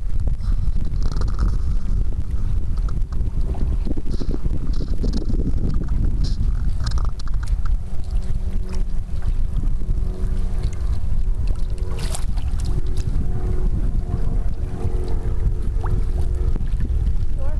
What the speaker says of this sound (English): the wind and the current are just taking us along at just an unbelievable clip here